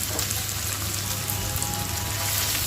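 Onion frying in a pan for a village-style Bengali eggplant chorchori, a steady close crackling sizzle that holds evenly throughout with no talking.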